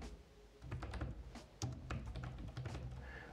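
Computer keyboard typing as a page name is entered in WordPress, a quick irregular run of close, light key taps with a few louder clacks, no voices.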